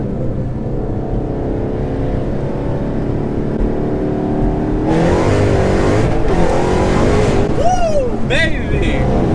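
Supercharged VMP Gen 3R car with a new throttle body accelerating hard from a 60 mph roll, engine note climbing steadily and loud throughout, with a rising supercharger whine and tire noise as it struggles for traction; a voice shouts over it.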